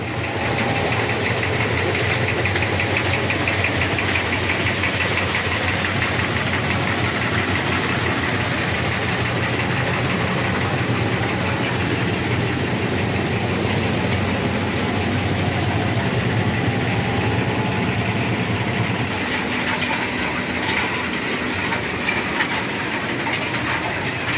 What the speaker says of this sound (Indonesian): ini sebelahnya sekarang masih ada mesin gelundung lagi